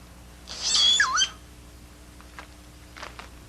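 A male giant cowbird at a nest colony gives one loud, warbling, liquid call, followed by a few faint, short chirps from the surrounding colony.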